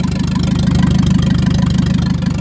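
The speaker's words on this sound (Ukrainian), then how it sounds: "Заглушили, завели для того, щоб подивитися тому що зробили турбіну" A Ford Ranger engine idles steadily just after being started following turbo repair, a loud, even low rumble with a regular pulsing beat that carries through the whole stretch with no talk.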